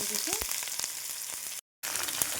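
Onions frying in hot oil with panch phoron in a wok, a steady broadband sizzle with occasional stirring clicks, broken by a brief silent gap before the sizzling resumes.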